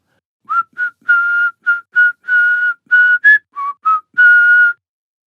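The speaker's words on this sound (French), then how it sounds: "À peine a-t-il sifflé le début de la chanson" A clear, melodic whistle carries the holiday tune Jingle Bells (Vive le vent) in short separate phrases, close and loud, with brief pauses between notes.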